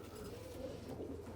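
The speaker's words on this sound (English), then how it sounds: "Tell us a bit more about this pigeon." A racing pigeon coos softly and low, a faint murmuring call held under a quiet, still background.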